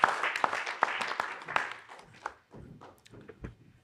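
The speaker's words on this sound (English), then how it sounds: "Let's clap again for our esteemed panel" Applause for a panel at a United Nations anniversary event starts as scattered clapping and thins out into a few sparse claps, with shuffling and footsteps as people return to their seats.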